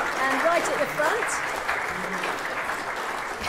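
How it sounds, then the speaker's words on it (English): Applause at a school sixth form prize giving, a moderate round of clapping from the audience under a speaking voice at the start, continuing steadily and fairly soft after the talk stops. "So, big round of applause."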